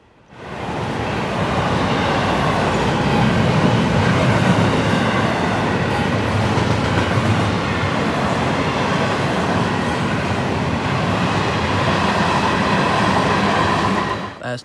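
An FEC freight train, number 208, rumbles steadily past northbound, a loud continuous roar of rail cars and wheels with faint clatter, sustained throughout with no voices.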